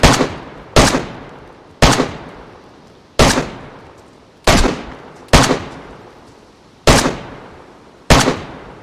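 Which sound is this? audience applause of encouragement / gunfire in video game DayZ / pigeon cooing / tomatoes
gunfire in video game DayZ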